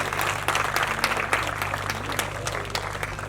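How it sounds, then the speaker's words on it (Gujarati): An audience at a karaoke singing competition grand finale in Vadodara claps for the judges, with dense continuous applause throughout and no speech over it. "તો આપણા ચારે ચાર જજીસને આપણે ફરીથી એકવાર જોરદાર તાળીઓથી વધાવીએ."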